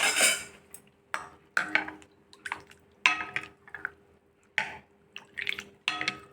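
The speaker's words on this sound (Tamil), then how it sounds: "இப்போது இது வந்து கொஞ்சம் மிக்ஸ் பண்ணிக்கலாம்" A milk fruit dessert with pomegranate and mango is stirred in a bowl, giving a series of separate wet clinks and swishes of a spoon in an uneven rhythm, close and moderately loud, without talk.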